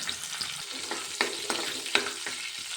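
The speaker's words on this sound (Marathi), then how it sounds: "तेल गरम झालेलं आहे तेलामध्ये लसणाची फोडणी देऊया" Steady crackling sizzle of garlic in hot oil, with a few sharper pops and spatters rising above the continuous frying hiss.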